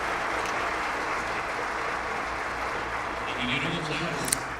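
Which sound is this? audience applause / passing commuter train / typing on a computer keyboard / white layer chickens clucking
audience applause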